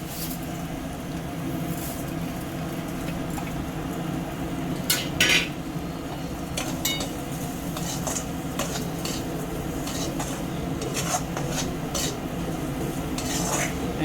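Rice being stirred into frying pointed gourd in a pan with oil, a steady sizzle under scraping spoon strokes and occasional metal clinks of utensil against the pan.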